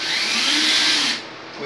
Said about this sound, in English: So I'm gonna pre-drill the hole with the smaller drill bit.